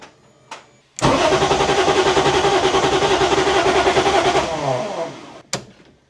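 A BMW E30 M3 fitted with an S54 engine and full exhaust cranks briefly, then catches and runs loud and close for several seconds with a pulsing idle before cutting off, followed by a short second burst.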